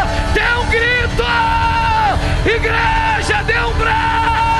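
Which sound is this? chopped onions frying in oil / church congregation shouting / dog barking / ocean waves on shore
church congregation shouting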